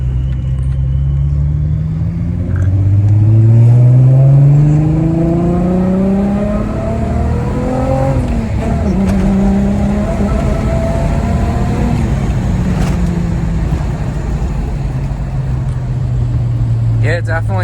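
Supercharged Silver Arrow Mk3 Jetta VR6 accelerating hard, its engine note climbing through rising gear pulls with a loud, close roar that fades and swells over steady road rumble, with voices talking underneath.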